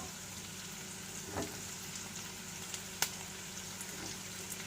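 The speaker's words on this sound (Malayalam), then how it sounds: "ഇനി ഇത് നമുക്ക് 1 മിനിറ്റ് ഒന്ന് വഴറ്റിയെടുക്കാം" Ginger-garlic paste and cubed capsicum sautéing in a pan for chicken Manchurian, a low steady sizzle with a faint soft clatter and one sharp clink near the end, no talking.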